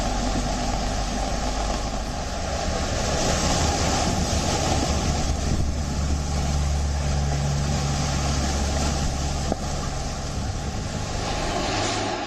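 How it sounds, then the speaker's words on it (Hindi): Strong sea waves churn during Cyclone Tauktae off the Maharashtra coast near Virar, a steady, dense roar of surf and wind filling the whole stretch with no voices. "ये तस्वीर उस वक्त की है जब समंदर में तेज लहरें उठ रही थी"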